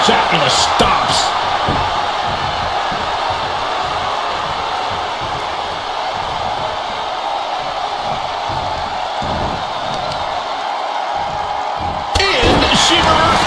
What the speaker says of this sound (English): Watch out for the stomps.